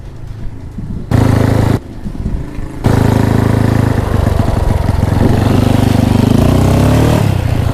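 A Honda Wave motorcycle engine runs loud and close, with brief dips and then sustained revving whose pitch climbs toward the end.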